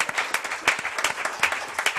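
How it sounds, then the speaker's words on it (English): Applause from an audience at a meeting, a short burst of scattered hand claps with uneven rhythm, moderately close and fairly loud throughout. "let's give her a round of applause."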